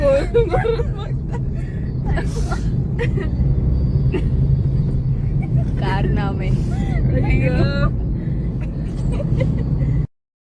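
Steady low rumble inside a taxi cab while driving, with people chatting and occasional high-pitched voices over the road noise.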